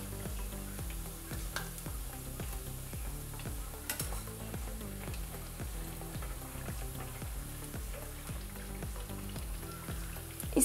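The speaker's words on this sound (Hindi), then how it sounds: "अब इसको मीडियम फ्लेम पर दोनों तरफ उलटते पलटते हल्का गोल्डन ब्राउन होने तक फ्राई कर लें।" Mustard flower pakoras fry in hot oil over medium flame, a dense, even sizzle and bubbling hiss with faint rhythmic scrapes as they are turned, ending in a slight louder clatter.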